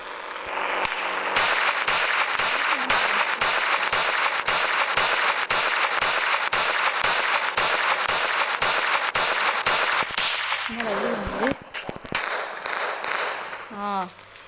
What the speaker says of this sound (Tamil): இதில் நீங்கள் நார்மலாக சுட்டாலே வெடிக்கும்